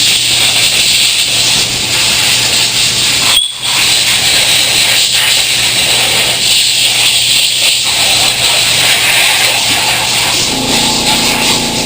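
Compressed air blasts debris out of an Echo CS330T chainsaw in one long, loud, steady hiss at close range, broken by a single short pause partway through.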